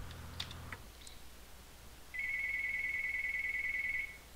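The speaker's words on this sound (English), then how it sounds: "And now the other phone's ringing" A phone rings in The Sims 3 with a steady, continuous electronic tone that runs for about two seconds, fairly loud and alone. Before it, a few faint clicks and bits of game sound are heard.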